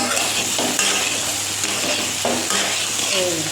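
Potatoes and soybean chunks fry in a pan with a steady close sizzle, broken by repeated scraping and stirring strokes from a utensil against the metal.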